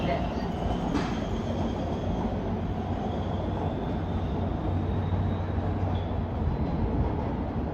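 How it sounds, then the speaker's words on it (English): MARTA southbound Red Line subway train approaching West End station, a steady loud rumble of rails and wheels that holds for the whole stretch, with a faint high squeal above it and no speech. "A southbound red line train is approaching the station."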